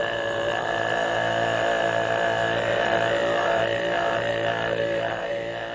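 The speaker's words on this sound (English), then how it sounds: "also called overtone throat singing" Tuvan overtone throat singing, a droning low fundamental with a whistling melodic overtone above it, sustained continuously and loud, with rhythmic swells toward the end.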